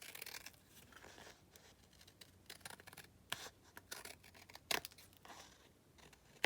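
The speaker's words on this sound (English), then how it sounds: "use the scissors to make a straight, even cut" Quiet snipping and rustling of scissors cutting material, a series of soft irregular clicks and scrapes up close.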